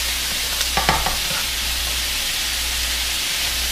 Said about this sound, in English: Sometimes I like to add a little pinch of salt when I'm browning my onions.